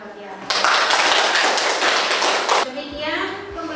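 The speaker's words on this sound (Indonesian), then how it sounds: "Tepuk tangan buat Tiara" A classroom of students claps for a classmate, a burst of quick hand claps that starts abruptly and stops after about two seconds, followed by children's voices chattering.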